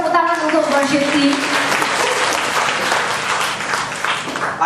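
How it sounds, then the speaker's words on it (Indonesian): A church audience at a worship event in Surabaya applauds the worship team, a dense, sustained burst of clapping that follows a spoken voice at the start and fades slightly toward the end. "kita tepuk tangan untuk worship team"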